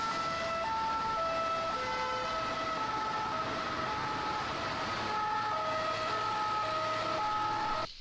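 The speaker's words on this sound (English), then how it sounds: "you can see that the ambulance just goes" An ambulance siren wails in a steady repeating two-tone pattern on the road, loud and continuous throughout with traffic noise underneath and no talking.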